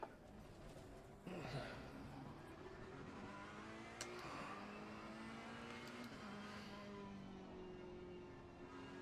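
Race cars in Assetto Corsa Competizione running close behind after a race, engine tones rising and falling steadily with gear shifts, moderately loud and continuous with no talking.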